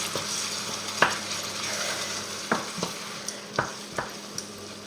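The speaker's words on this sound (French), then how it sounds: "Et on remue jusqu'à qu'il fonde." Mussels in a roquefort sauce simmer with a low bubbling hiss while a utensil stirs them, producing a few soft, scattered scrapes and taps against the pan.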